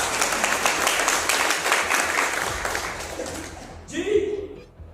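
Audience applause at an indoor forum, a dense burst of clapping that gradually thins and fades out, followed by a brief isolated sound near the end.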